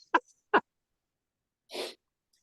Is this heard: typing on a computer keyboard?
no